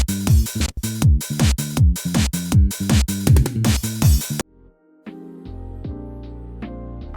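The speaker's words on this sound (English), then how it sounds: "The drums, it'll sound like this." Programmed drum pattern for a VOCALOID song, punchy kicks and snares with crashes in a quick rhythmic loop under sustained chords, then the beat drops out and soft tonal notes continue alone.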